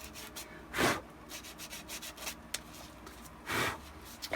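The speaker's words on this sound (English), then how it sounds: "Just going to sand that down a little bit, make it a little smoother." Two short bursts of sandpaper rubbing smooth a jagged scissor-cut edge on a Shadow Trooper armor piece, with quieter scraping and handling noises between them in a quiet room.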